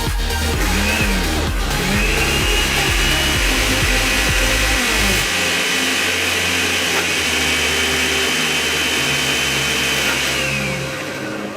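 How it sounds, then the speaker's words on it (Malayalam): A kitchen blender grinds beetroot with olive oil into a fine paste, a loud steady motor whine that changes pitch partway through as the load shifts, running continuously with no talk. "ബീറ്റ്റൂട്ടിനകത്ത് ഞാൻ ഇച്ചിരി ഒലിവെണ്ണയും കൂടെ ചേർത്ത് ഫൈനായിട്ട് ഒരു പേസ്റ്റ് ആക്കുകയാണ്"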